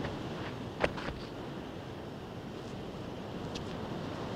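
Sea waves wash continuously onto a rural Japanese shore, a soft steady roar of surf with a faint wind hiss and one brief louder splash near the start, heard alone with no voices.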